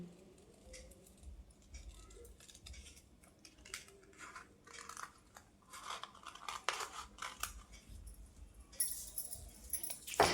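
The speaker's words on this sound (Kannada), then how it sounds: "ಇದು ಲೀಫ್ ಶೇಪಲ್ಲಿ ನಾನು ಇದನ್ನು ಕಟ್ ಮಾಡಿ ತೋರಿಸ್ತಾ ಇದ್ದೀನಿ" Scissors snip through blouse fabric, following a curved leaf-shaped line in a tailoring session, giving close, irregular crisp cuts and rustles that grow denser and louder toward the end.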